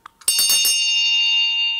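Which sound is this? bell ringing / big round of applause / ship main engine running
bell ringing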